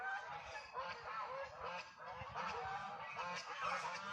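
A flock of geese honks continuously while eating clover, many overlapping nasal calls at a steady moderate distance, busy and unbroken throughout.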